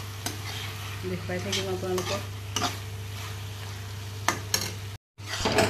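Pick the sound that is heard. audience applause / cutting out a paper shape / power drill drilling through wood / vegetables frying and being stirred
vegetables frying and being stirred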